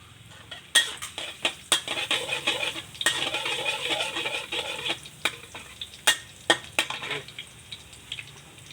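Garlic sizzles steadily in hot oil in a pan for fried rice with fermented pork. A spatula or spoon stirs and scrapes with sharp metallic clicks and knocks, close by.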